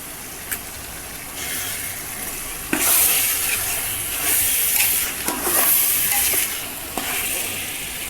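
Two kilograms of chicken stirred and fried in a pot for restaurant-style biryani, giving a steady sizzle with repeated scraping stir strokes, close and fairly loud, with no talk.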